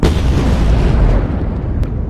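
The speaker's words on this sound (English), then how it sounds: "That's a lot of explosions." Simulated nuclear-strike explosions blast from massive speakers, a loud, continuous rumbling barrage of booms with no pause across the clip.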